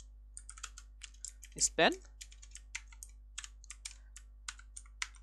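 Keys clack on a computer keyboard while CSS code, a span tag, is typed, a quick uneven run of close clicks with one short spoken word partway through.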